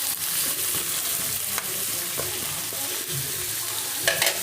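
Squash is added to a hot pan while cooking a vegetable dish with crab, sizzling and frying steadily, with soft scraping and clinks as the pieces are stirred around close by.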